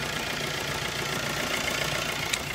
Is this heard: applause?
no